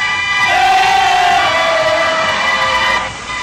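Flamengo football supporters chanting together inside a stadium in Japan, a dense, loud crowd roar with sustained sung voices and a steady rhythmic drive, filling the space without pause.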